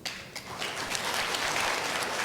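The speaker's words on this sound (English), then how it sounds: "Let's give a round of applause to our new Chief Girl Scout, First Lady Louise Araneta Marcos." Audience applause for the new Chief Girl Scout, the First Lady, at a Girl Scouts of the Philippines ceremony: steady, dense clapping from a large crowd, continuous and fairly even throughout.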